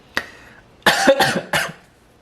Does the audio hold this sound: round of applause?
no